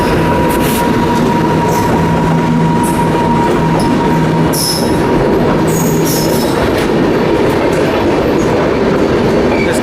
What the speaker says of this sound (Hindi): रायपुर जंक्शन के प्लेटफॉर्म नंबर 1 पर अराइव कर रही है 15231 बरौनी गोंदिया एक्सप्रेस आ रही है WAP 7 के साथ।